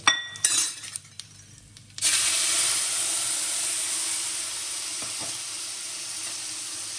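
Gravy poured into hot oil with cumin and asafoetida bursts into a loud, close sizzle after a few clinks, then settles into a steady hiss that fades slightly.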